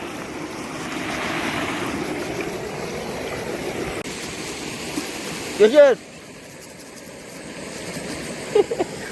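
River water rushes in a continuous broadband flow, up close in an outdoor river setting in Konkan, with voices chattering over it and a brief louder burst near the middle.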